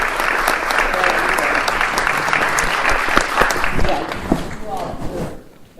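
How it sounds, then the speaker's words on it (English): A crowd at a school forum breaks into a sustained round of applause, dense steady clapping that fills the room for several seconds before tapering off at the end. "everybody that worked on this deserves a round of applause"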